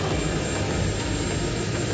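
Steady broadband jet engine roar fills the cabin of a passenger airplane, a constant muffled hiss and rumble with no talk.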